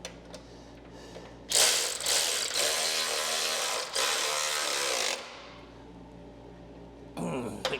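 A ratchet tightens a bolt on the C4 front suspension of a 1957 Chevy truck restomod. Two long runs of loud, close mechanical ratcheting are followed by a brief burst at the end.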